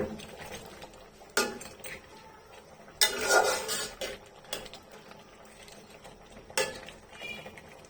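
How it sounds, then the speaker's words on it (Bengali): Prawn curry being stirred in a metal pot, then a lid set on it: scraping spoon strokes and several sharp metallic clanks at irregular intervals, close and fairly loud, with no voices. "এখন সবগুলো একসাথে মিক্স করে আবার ঢাকনা দিয়ে ঢেকে দেব"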